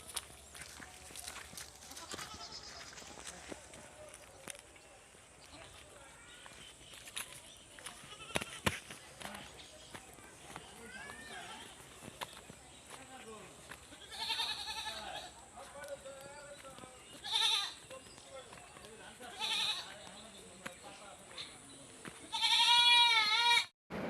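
Goats bleat at intervals around a rural home, with several short wavering calls, the loudest near the end, over faint background noise and no talking.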